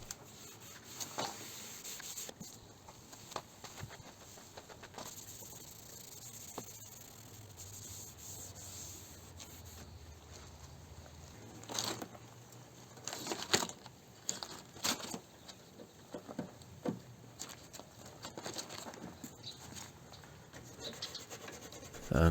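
Light sanding of a rusty car door panel being prepared for paint: quiet, irregular rubbing and scraping strokes that come in scattered bursts, growing busier and slightly louder in the second half, with no talk.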